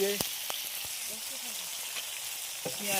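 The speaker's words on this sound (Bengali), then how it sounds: "এবার পেঁয়াজ দিয়ে দিচ্ছি।" Onions frying in hot oil with bay leaf, cinnamon, cardamom and chili for a chicken curry: a quiet continuous sizzle with a few sharp clinks of a utensil against the pan at the start and end.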